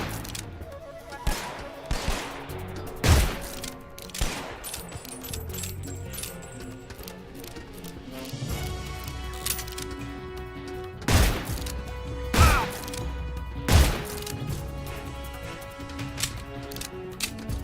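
Video game gunfire cracks out as scattered sharp shots mixed with mechanical clicks and clatter over a busy game soundscape, spaced irregularly across the stretch.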